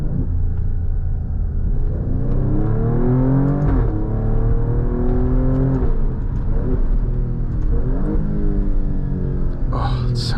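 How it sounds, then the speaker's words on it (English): A 2023 Alfa Romeo Stelvio Quadrifoglio V6 engine roars and revs up repeatedly inside a tunnel, its deep exhaust note echoing and rising in pitch with each pull, loud and close. "it just sounds incredible with this exhaust system too"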